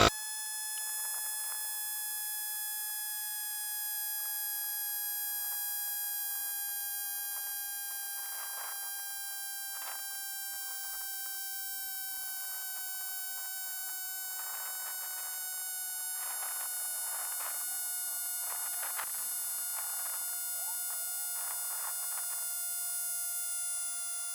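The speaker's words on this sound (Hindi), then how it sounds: "ये टायर इन्फ्लेटर से 0 से लेके 35 PSI तक भरने में कितना समय लगता है।" A Portronics Vayu portable tyre inflator pumps air into a flat bike tyre, giving a steady, continuous electric whine with a sharp tonal edge. The pitch holds level throughout, with a few faint clicks and rattles mixed in.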